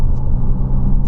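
A McLaren 570S engine rumbles at idle, a steady deep low-end drone lasting about a second with no other sounds over it.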